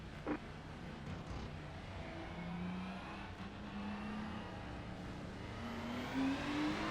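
Several Ferrari 296 GT3 race cars in a racing game accelerate together off a rolling start at Zolder, engine notes climbing steadily in pitch beneath a continuous dense roar, fairly quiet overall.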